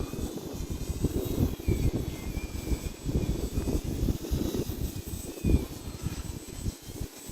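A Hobbyzone Carbon Cub S 2 1.3 m RC plane flies at quarter to half throttle in strong wind, its small electric motor buzzing faintly from a distance under gusty wind noise, with no talking.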